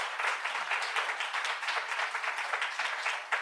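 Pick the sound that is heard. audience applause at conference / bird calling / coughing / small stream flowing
audience applause at conference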